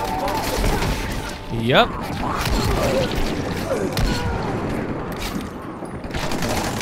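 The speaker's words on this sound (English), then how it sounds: "Oh, I hear gunshots." Gunfire in the zombie video game Dying Light, a cluster of sharp shots and bangs over continuous game ambience, with a voice speaking briefly.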